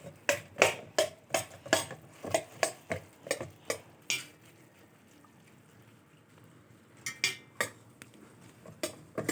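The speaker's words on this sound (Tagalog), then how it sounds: "Pagkatapos natin mailagay lahat, haluin na natin." Pancit canton noodles being mixed in a pan: a fast, regular run of sharp utensil clacks and scrapes against the pan, pausing for a couple of seconds before resuming with more clacks near the end, quiet between strokes.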